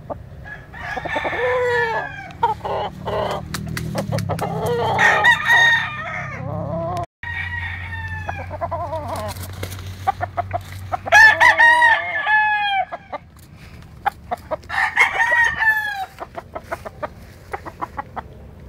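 Sweater 5,000 gamefowl roosters kept for breeding crow repeatedly at close range, loud drawn-out calls coming in several bursts mixed with clucking and other bird sounds, with a low steady hum underneath.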